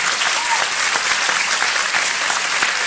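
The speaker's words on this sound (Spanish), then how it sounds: "Senhoras e senhores, uma salva de palmas a todos os componentes dessa mesa" Applause from an audience at a university lecture hall event, steady dense clapping filling the space throughout with no voices over it.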